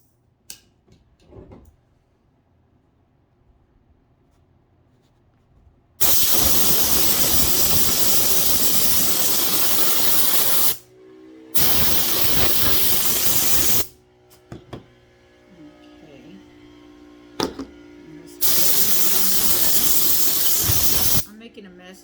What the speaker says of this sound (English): let's get this sprayed.